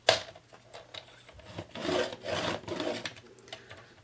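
Craft material for a faux wooden crate being scored along a line, giving a quiet, near scraping rub in several short strokes and longer drawn passes, with no talk.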